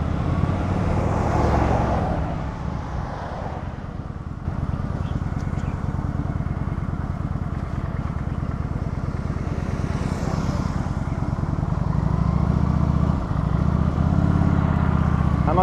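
Kawasaki Vulcan 900 cruiser motorcycle riding and cornering on an open road, with a steady engine drone and wind rumble throughout that swells slightly toward the end.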